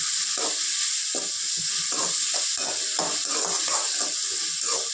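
Drumstick, tomato and mango curry is stirred in a pan over a steady hissing sizzle, a spoon scraping and clattering in quick, repeated strokes close by.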